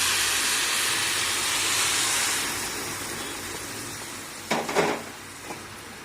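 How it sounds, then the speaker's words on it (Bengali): Milk poured onto fried vermicelli and nuts in a hot pan, a loud continuous sizzling hiss that eases after a couple of seconds, followed by a few sharp clatters of a utensil. "দুধটা ঢেলে দিচ্ছি"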